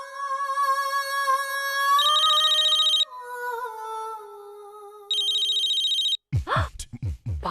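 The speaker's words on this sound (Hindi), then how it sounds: "बाबा का फोन" A telephone rings in a Hindi TV drama household, its electronic ringtone sounding in repeated tonal bursts, loud and close, before a brief clatter of handling at the end.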